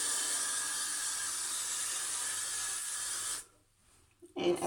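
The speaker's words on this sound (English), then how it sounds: "I'm going to take my gel hairspray" Gel hairspray hisses in one continuous spray onto hair for about three seconds, then cuts off into near silence before a brief rustle at the end.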